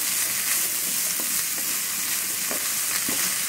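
Green beans sauté in hot oil for a Tamil beans poriyal, a loud, steady hiss of frying with a few soft stirring taps, close and without talk.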